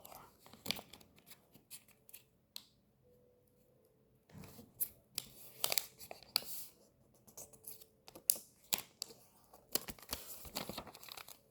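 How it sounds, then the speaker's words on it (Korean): Soft paper rustling and crinkling as paper is folded for an origami tank, quiet intermittent creases and rubs up close, no talking. "다시 한번 접어줍니다"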